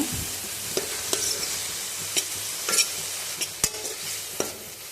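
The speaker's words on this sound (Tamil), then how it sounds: "இப்போ தக்காளி போட்டு நல்லா மிக்ஸ் பண்ணிக்கோங்க." Tomatoes are stirred into sautéed onions in a frying pan for a potato gravy, with a steady sizzle beneath repeated scraping strokes of a spoon at a fairly even rhythm, close up.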